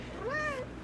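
A house cat gives a single clear meow, rising and falling in pitch, close by over a quiet indoor background.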